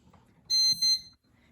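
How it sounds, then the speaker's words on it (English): Two quick high-pitched electronic beeps close together from a bread machine just plugged in, loud and clear against near silence. "you'll hear it beep to let you know that it's receiving communication"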